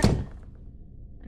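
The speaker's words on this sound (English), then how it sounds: "Close the door." A door shut in a video game, one sharp close thunk at the start followed by a quiet, fading tail.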